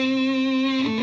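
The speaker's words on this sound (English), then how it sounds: "So here's what it sounds like with the fuzz and the distortion" Electric guitar from a James Tyler Variax modeling guitar through a Fender Mustang GTX100 amp, pushed through fuzz and distortion into a saturated, buzzing sustained note rich in harmonics that holds steady, then shifts pitch near the end.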